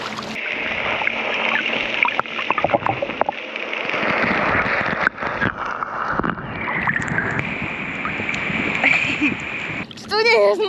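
Sea waves wash and splash onto the beach at Gili Air, a continuous close surging hiss with rough bursts while a person talks over it.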